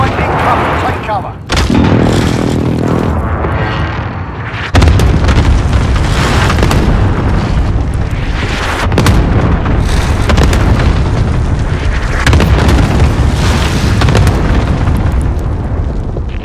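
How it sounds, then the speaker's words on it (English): Cluster strike explosions in Call of Duty: Modern Warfare boom loudly one after another, dense rumbling blasts and bursts filling the scene, with voices calling out in the game underneath. "Enemy cluster strike incoming! Take cover!"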